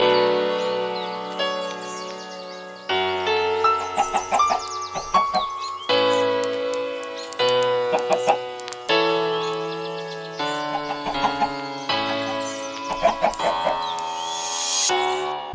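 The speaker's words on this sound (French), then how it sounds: "Donc avec le son des oiseaux." Chirping birdsong woven into a layered lo-fi hip hop remix of Minecraft music, with sustained tones and shifting chords, the bird calls bright and repeated over the melody.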